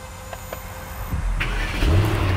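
A Mercedes-AMG GT 63S on a motorway shoulder after breaking down, its engine cranking and catching midway, then settling into a loud, steady idle with a rising hum.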